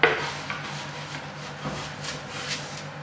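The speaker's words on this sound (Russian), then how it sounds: "Открываем духовку." A home oven door being opened in a kitchen: a sharp metallic clunk at the start followed by soft rubbing and scraping sounds, with a steady low hum in the background.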